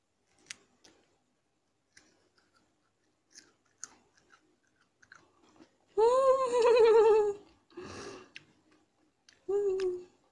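Raw garlic clove being bitten and chewed up close: soft crunching clicks, then loud strained vocal groans and whines from the person eating.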